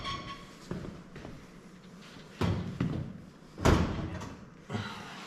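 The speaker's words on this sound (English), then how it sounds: "Door pops right off." A gas range oven door from a Bespoke range converted to liquid propane is lifted off its hinges, making a series of close clunks and thumps, with the loudest knock near the end and no talking.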